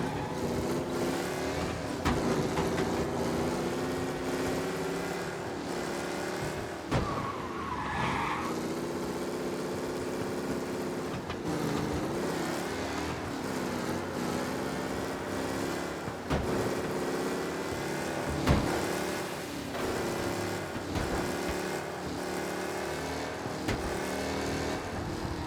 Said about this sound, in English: Be alert for a race car out on the roads tonight.